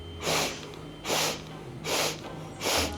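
Two forceful breath bursts during kundalini yoga breathing practice, then two more, each a loud broadband whoosh of about half a second, evenly spaced in a steady rhythm, close and alone with no talk.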